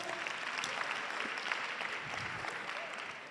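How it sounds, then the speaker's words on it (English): Audience applause at a conference session on building resilient economies, a steady wash of clapping from a crowd that holds even for a few seconds, fairly soft and distant. "Let's give her a hand of applause."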